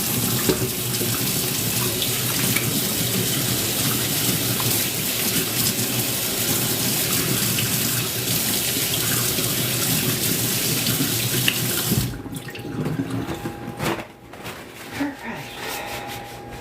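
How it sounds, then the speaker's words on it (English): A kitchen tap runs in a steady loud gush while hands are washed during home cooking, then shuts off near the end, leaving faint splashes and drips. "Let me wash my hands real quick."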